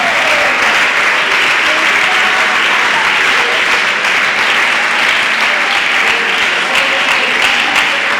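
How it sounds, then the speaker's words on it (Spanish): A congregation at a Pentecost church service applauds, filling the whole stretch with steady, loud, continuous clapping that holds at an even level throughout. "Aplauda su presencia."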